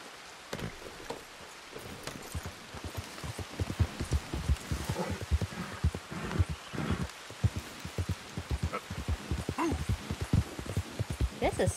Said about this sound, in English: I don't like how it's raining though